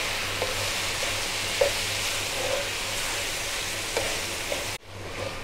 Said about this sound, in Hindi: इसको अच्छे से मिक्स करना है, अच्छे से यानी कि भून लेना है।